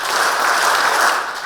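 Audience clapping in unison at an education talk, a dense burst of hand claps filling the moment loudly, with no voices over it.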